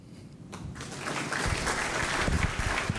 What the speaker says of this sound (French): Vous venez de suivre ce rapport qui est en train d'être applaudi ici